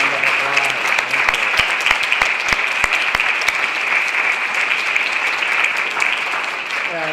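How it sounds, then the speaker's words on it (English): A forum audience gives a huge round of applause, sustained dense clapping at steady volume for several seconds with sharp individual claps standing out, a voice briefly audible at the start. "Give them a huge round of applause."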